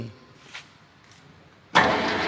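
A metal lathe in a machining workshop switches on: after a quiet stretch with a faint click, the machine starts abruptly with a loud, broadband whir that holds steady through the rest of the moment.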